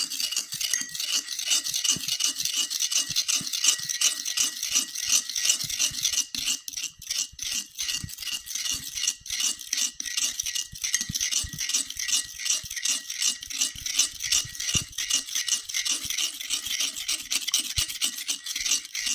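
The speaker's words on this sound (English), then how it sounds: "Once you stir it up real good, should look like this." Peanut butter candy mixture is stirred steadily in a bowl, a continuous scraping, rasping rub with a fast, even rhythm, close and moderately loud, with no voices.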